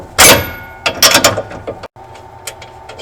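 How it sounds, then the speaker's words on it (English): Ratchet and 3/4-inch deep well socket loosening an actuator bolt, giving a loud burst of clicking followed by several short, close metallic ratcheting bursts and a brief pause, with no talking. "I'm going to do this with my 3/4 box end wrench and my ratchet with my 3/4"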